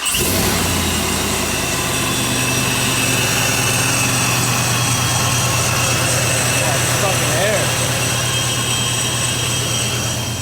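A Procharged Chevrolet Silverado V8 with a newly installed intake idles steadily and loudly throughout, a constant engine drone with a faint supercharger whine; voices talk briefly over it.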